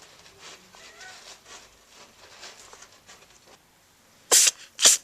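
Two quick sharp sneezes from a kitten at a cat rescue sanctuary, close to the microphone and loud, following a stretch of faint background rustling.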